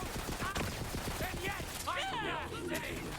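Video game gunfire crackles in rapid bursts of close shots, mixed with tonal game effects and voices talking over it.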